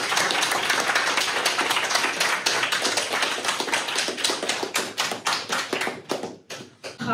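An audience at a company townhall meeting claps hard and steadily, a dense wash of hands that slowly thins into a few scattered, separate claps before one last burst.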